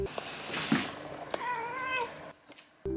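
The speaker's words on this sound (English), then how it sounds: "here's my cat begging for dinner" A cat meows close by while begging for dinner, one drawn-out wavering meow following a couple of short softer sounds, in a quiet room.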